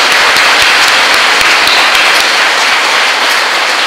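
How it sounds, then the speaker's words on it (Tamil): An audience claps together at a talk, dense loud applause filling the whole stretch evenly without any voices over it. "இப்போ நீங்கள் உங்களுக்காக ஒரு தடவை தயவு செஞ்சு கைத்தட்டுங்கப்பா."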